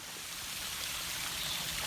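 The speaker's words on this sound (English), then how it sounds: "Waterfall." A waterfall on the grounds of Blarney Castle in Ireland gives off a steady, even rushing of water, close and continuous with no voices.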